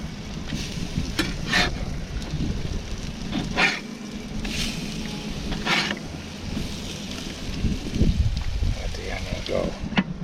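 Gusty wind buffets an outdoor grill at an RV campsite, rough low rushing noise mixed with sizzling food and occasional clanks of a spatula, with a person talking intermittently.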